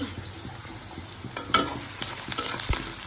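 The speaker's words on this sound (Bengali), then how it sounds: "আর এদিকে মুড়ি ঘন্টার জন্য আমি পেঁয়াজ কুচি ভেজে নিচ্ছি।" Chopped onions frying in a pan and being stirred, a steady close sizzle broken by a few louder scraping strokes of the spoon, with no talking.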